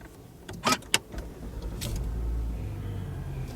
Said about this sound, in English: firstly, you start the car